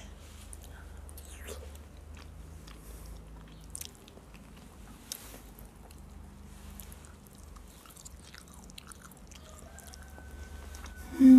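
Someone chewing fried chicken wing close to the microphone at a mukbang meal, with quiet wet bites and soft squishy chewing over a faint background hum and a brief louder clatter at the end.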